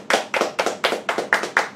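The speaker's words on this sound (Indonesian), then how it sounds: "Tepuk tangan dong yang meriah untuk sponsor kita kali ini," Crisp, evenly spaced hand claps, about eight in a row, close and fairly loud during an online break-the-fast (bukber) event, with no voices.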